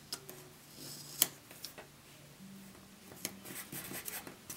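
A pen writes in a small planner, a quiet scratching and tapping with soft taps and short strokes spread across the moment.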